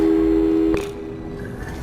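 Phone line tone from a call in the video game Portal 2: a steady electronic telephone tone holds for under a second, then cuts off with a click, leaving a quieter hum and faint tonal remnants.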